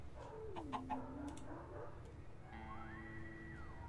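Minecraft chicken in a modded video game world giving soft clucking calls with a few short chirps, faint and fairly close, followed by a rising and falling tonal game sound.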